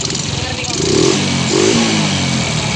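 Suzuki Shogun 125 motorcycle engine revved up from idle after tuning, a loud close buzzing roar that rises, dips briefly and climbs again, with a voice talking over it.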